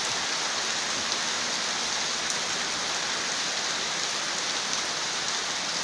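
Steady rain pours down in a dense, even hiss, unbroken and loud throughout with no voices.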